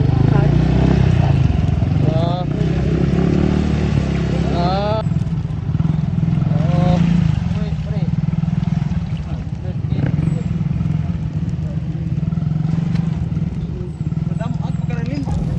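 A motorcycle engine drones steadily up close throughout, with wind noise and people talking loudly over it.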